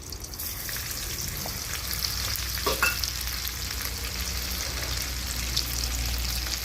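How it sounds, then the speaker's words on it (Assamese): Onion, garlic and ginger frying in oil, a steady close sizzle and crackle with light stirring scrapes, fairly quiet and alone. "এইখিনি ভালদৰে অকণমান ভাজি ল'ম।"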